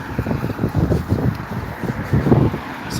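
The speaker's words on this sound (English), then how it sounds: "So it's still a bit windy" Gusty wind buffeting the microphone in rumbling low bursts, rising and falling over a few seconds, on a walk around Leominster.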